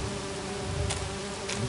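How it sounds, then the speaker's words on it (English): Bees from a hive in Agatha Christie: And Then There Were None buzz in a steady, dense drone, loud and close with no pauses. "Alright, let's go look at the bees."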